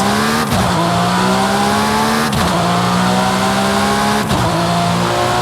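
A Porsche flat-six engine in the Forza Horizon 5 racing game revs hard and climbs in pitch, shifting up about three times in steady succession, loud and close throughout with no voices.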